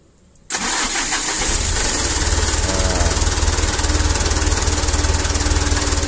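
A Mitsubishi Canter 125PS truck engine starts without throttle: a brief crank catches after half a second, then the engine settles into a loud, steady, rumbling idle with no voices.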